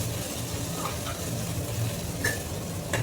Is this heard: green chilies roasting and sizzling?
yes